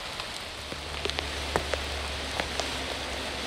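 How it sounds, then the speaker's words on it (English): Heavy rain pours down steadily outdoors, a dense hiss with scattered louder drops pattering close by. "It's pouring down rain."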